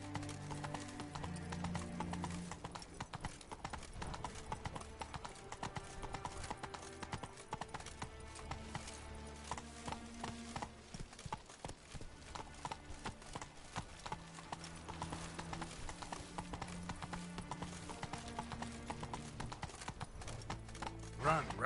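Horse hooves clip-clop in a steady rhythm in a video game, with background music throughout and a brief whinny.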